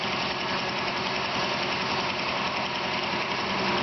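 The motor of a homemade bandsaw sawmill runs steadily close by, a constant droning rumble with a slight knocking vibration and no voices.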